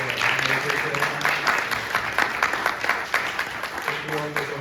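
A seated audience gives a round of applause for panelists at a media discussion, steady, moderately loud clapping from many hands that continues evenly throughout.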